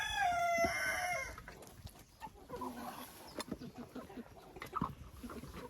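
A rooster crows loudly and clearly once near the start, then hens on the farm keep up a scattered, quieter clucking and rustling.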